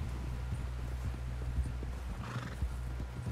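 Horse hooves clip-clopping at a walk with a brief neigh in Red Dead Redemption 2, faint and steady over low background rumble.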